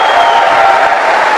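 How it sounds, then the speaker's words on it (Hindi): Audience applause at a business talk swells as a brief, dense wash of clapping and cheering, loud and close, with no voice over it. "मैं चाहूंगी इससे ज्यादा जोर से ताली बजा सकते हैं आप मेरे मेंटर के लिए"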